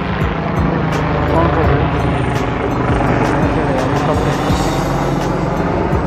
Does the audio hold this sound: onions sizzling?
no